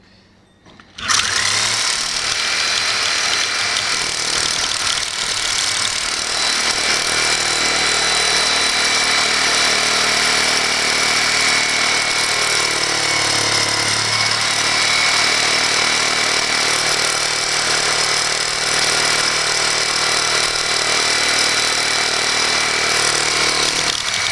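Reciprocating saw with a carbide grit blade cutting continuously after a brief quiet start, a loud, harsh, steady buzzing roar held for over twenty seconds at close range, with no talking.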